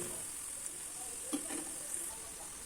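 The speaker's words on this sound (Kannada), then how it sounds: "ಸಣ್ಣ ಸಣ್ಣದಾಗಿ ನಾನು ಈರುಳ್ಳಿ ಬೋಂಡ ಹಾಕ್ತಾಯಿದ್ದೀನಿ" Onion and cucumber bonda fry in hot oil with a soft, steady sizzle and a few faint crackles, quiet and close.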